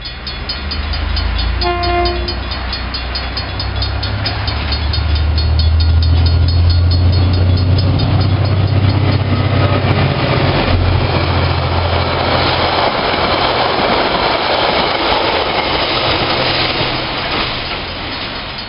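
New Zealand DC class diesel locomotive 4260 passes on the Waitoa Branch line, a loud, steady engine roar and wheel rumble building and holding close by, with a brief horn blast near the start.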